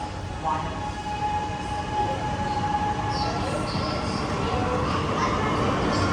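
A Mumbai metro train rumbles steadily at close range, with a low continuous roar, faint tonal whine, and brief high squeals, no clear talking.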